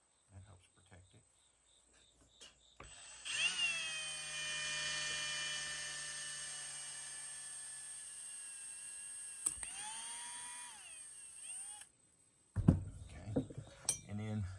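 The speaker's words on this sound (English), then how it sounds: "And then I'll just drill right where the tape is." A power drill bores through tape into a glass wine bottle with a steady high-pitched whine and grinding squeal, pausing briefly before a second burst, then fumbling handling noises.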